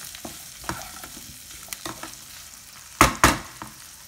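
Boiled potatoes are stirred into an oats mixture in a pan: soft, close scraping strokes over a faint sizzle, ending in two louder scrapes near the end, with no talking.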